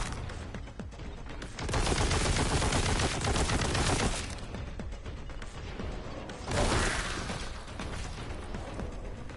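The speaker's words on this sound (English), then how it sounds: "now I have to use my big boy gun because the little gun is now empty" Heavy gunfire from a big weapon in Warhammer 40K Boltgun, loud sustained bursts with a brief lull around the middle before another blast of fire, close and dense.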